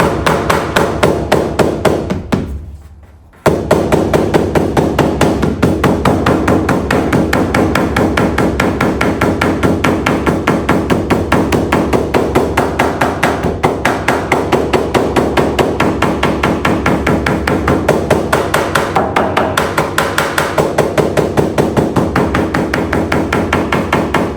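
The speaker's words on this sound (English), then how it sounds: "Let's see if I can do it with a hammer" A hammer strikes the edge of a steel rear door handle on a scrapyard VW T4 double cab in rapid, steady, loud blows, continuing almost without pause apart from one brief gap.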